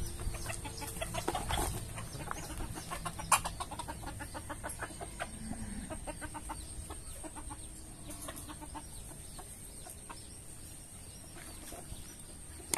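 A hybrid jungle fowl rooster clucks near its chicks, which peep in quick, thin bursts, with low scratching and shuffling around them in a quiet farmyard.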